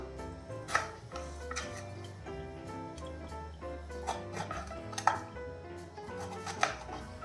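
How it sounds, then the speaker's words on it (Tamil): A knife slices a washed bitter gourd into long strips, giving a few sharp, faint chopping clicks at irregular intervals over soft background music. "இப்போ நாம் வந்து இதை கட் பண்ணணும் கட் பண்ணது வந்து கொஞ்சம் நீளமாக கட் பண்ணிக்கலாம்"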